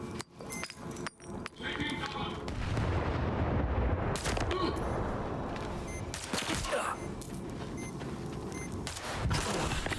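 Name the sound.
hand grenade explosions in the video game Stalker 2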